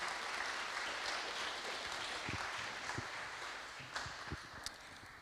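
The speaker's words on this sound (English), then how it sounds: "Please give a warm round of applause to our speakers." Audience applause after a panel session at Monaco Ocean Week, a steady dense wash of clapping that holds evenly and tapers slightly toward the end, with a few sharper individual claps standing out near the close.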